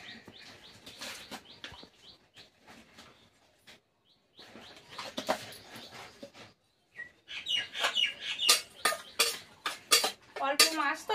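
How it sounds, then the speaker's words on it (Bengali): Fish being mixed with salt and turmeric using a metal spatula, heard as intermittent scraping and clinking against a dish, with birds chirping in the background and louder clattering toward the end. "হাত দিয়ে আর মাখলাম না, খুন্তি দিয়েই মাখিয়ে নিচ্ছি"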